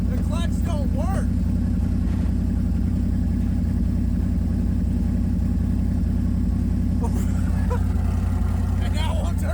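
A 1956 Chevy engine, unable to be shut off after twenty years of sitting, runs at a steady loud idle throughout, with a constant low rumble and people talking briefly over it.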